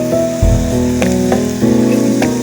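Chicken kachori filling being fried and stirred in a kadai, a close sizzle broken by repeated scraping and clanking strokes of a spoon against the pan.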